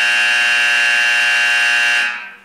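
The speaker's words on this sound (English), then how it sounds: "When the engine starts, we get a loud fire alarm because we have a big fire in the silo." Loud fire alarm sounding inside a Titan II missile silo at main engine start, a steady high-pitched electronic tone held constant before cutting off and fading at the end.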